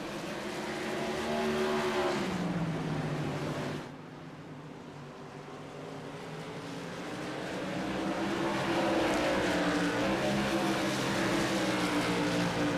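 Modified series race cars lapping the track at Myrtle Beach, out of turn four and down the front straightaway, engines droning loudly with pitch that dips and climbs as cars pass, sustained throughout.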